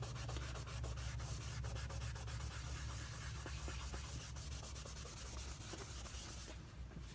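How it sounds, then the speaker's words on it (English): Pencil shading hard on paper while drawing Baby Yoda, a continuous close scratchy rubbing with quick back-and-forth strokes, steady and fairly quiet. "really give it some pressure and really shade that hard so you get rid of that line"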